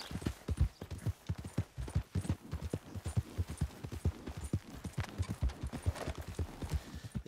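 Horse hooves clip-clop steadily in Red Dead Redemption 2, a continuous trotting rhythm of close, distinct hoofbeats throughout.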